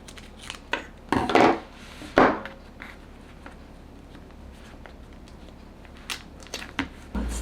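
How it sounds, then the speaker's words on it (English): Scissors cut through duct tape for a fabric design board, giving a few sharp close snips and crunches, then quieter handling noise. "so I'm going to cut it."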